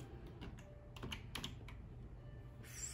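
Quiet clicks of typing on a computer keyboard, a loose irregular run of keystrokes heard fairly close in a calm room.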